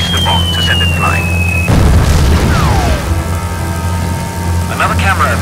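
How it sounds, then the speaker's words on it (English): A bomb detonates in the World War II flight game Secret Weapons Over Normandy, a loud, deep boom that breaks over the steady drone of the aircraft engine and then rumbles away. "release the bomb to send it flying."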